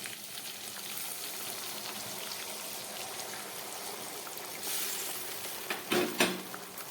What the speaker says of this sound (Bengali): এবার এই মাছের মধ্যে আমি উষ্ণ গরম জল দিয়ে